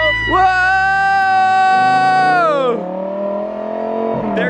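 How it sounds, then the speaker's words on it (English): A Lamborghini launches hard with a loud, rising engine howl that climbs through the revs, then drops pitch at a gearshift around the middle before pulling on again, close and dominant throughout. "There goes Liz and Steven in the Lamborghini"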